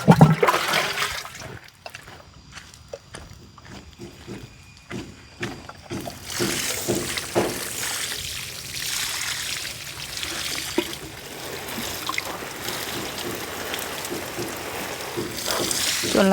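Water splashes and pours from a hose onto pumpkin plants in a home vegetable garden, gushing loudly at first, then dropping to a softer trickle before surging again into a steady rushing flow.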